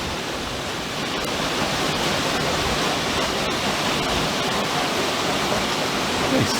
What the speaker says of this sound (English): spot where water's flowing right there.